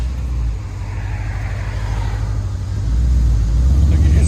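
A Porsche Cayenne S with a 4.8-liter V8 and an exhaust resonator runs steadily with a deep, low rumble that swells louder toward the end, heard up close with no talking.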